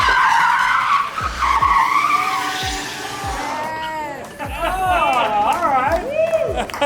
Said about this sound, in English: We're gonna smoke some tires.